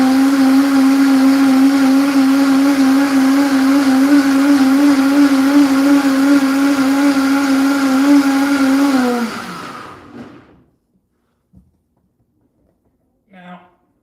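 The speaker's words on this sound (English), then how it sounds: "Now we're going to blend it all the way up." A blender motor whirs loudly and steadily with a strong hum for about nine seconds, then winds down and stops, followed by a few faint clicks.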